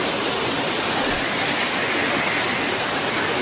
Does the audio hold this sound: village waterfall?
yes